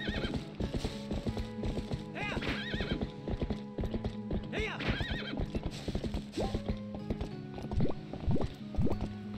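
A horse's hooves clip-clop steadily in the Zelda: Twilight Princess video game, with whinnies breaking in and game music underneath, close and fairly loud throughout.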